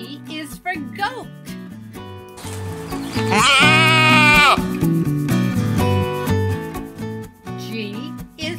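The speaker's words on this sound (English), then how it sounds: "G is for goat." A loud, wavering goat bleat rises mid-clip between stretches of a child's sing-song speech.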